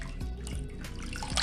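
Water drains from chhena hung in a cloth, with soft irregular drips and trickles falling into a vessel, quiet and close, without any voices.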